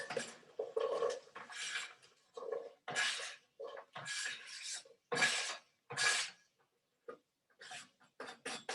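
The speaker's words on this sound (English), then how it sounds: "My oil seems warm now, so I'm going to put the onions in." Chopped onions go into shimmering hot oil in a soup pot, bursts of sizzle and clattering as they tumble in and are moved about, coming in separate loud spurts with short quiet gaps between them.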